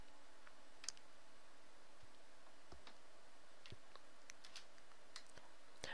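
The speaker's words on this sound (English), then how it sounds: "Sorry, the keyboard was getting in my way." Faint, scattered clicks and taps of computer keyboard keys being pressed, irregular and quiet over a steady background hiss, with no talking.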